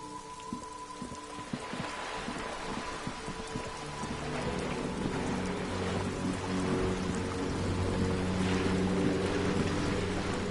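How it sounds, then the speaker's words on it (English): Rain falls steadily on wooden boards and surrounding water in the game Disco Elysium, a dense continuous patter with a low rumble beneath, building slightly in loudness. "rain keeps falling down. On the wooden boards she's standing on, and on the water around you."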